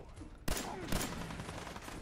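Gunfire in the video game Fallout 4, heard as two sharp loud shots about half a second apart, each followed by a lingering rumble and echo over quiet game ambience.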